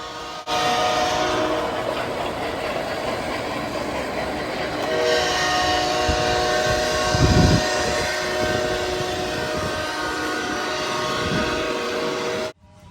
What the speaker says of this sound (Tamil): மினி ட்ரெயின்ஸை வந்து ரன் பண்ணுறாங்க